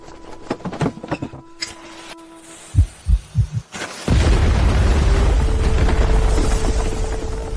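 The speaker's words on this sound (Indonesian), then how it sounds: "gunakan bubuk mesiu untuk meledakkan tempat ini" A large door is blasted open with gunpowder: a few soft knocks and thuds give way to a sudden heavy boom, followed by a loud, sustained rumbling roar that carries on to the end, with no voices.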